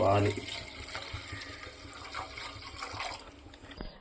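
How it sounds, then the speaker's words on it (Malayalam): Milk pours into a pan for a fruit salad with custard, a soft, close liquid stream that is quiet and continuous for a few seconds. "അപ്പോൾ നമുക്ക് ആദ്യം ഇതിലേക്ക് കുറച്ച് പാൽ ഒഴിച്ചു കൊടുക്കാം."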